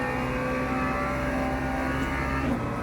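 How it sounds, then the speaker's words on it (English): A Lamborghini GT3 race car in Le Mans Ultimate roars at Monza with a steady, sustained engine drone and strong tonal harmonics, its pitch climbing slightly near the end as it draws closer, with no speech. "Now the Lambo's coming up on the left."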